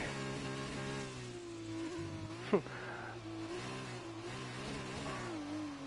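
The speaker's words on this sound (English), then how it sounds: "He's drifting around the old track." Race car drifting around the track in an F1 esports video game, a steady buzzing engine note held at high revs with a small wavering of pitch and one brief sharp spike midway.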